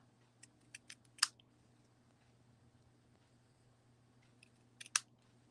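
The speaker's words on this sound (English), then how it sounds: "I'm putting the scissors right into that little notch right there and just snipping straight up" Two quick clusters of small crisp snips, a few clicks each, sound close and quiet over a low steady hum.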